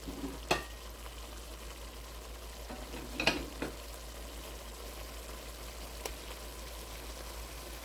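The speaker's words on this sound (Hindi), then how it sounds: "अब ये घी छोड़ना शुरू हो गया हमारा मसाला। इस टाइम हम इसमें कोफ्ते शामिल कर देंगे।" Mutton meatballs fry in ghee-rich masala with a faint, steady sizzle close by, punctuated by a few soft clicks and spatters.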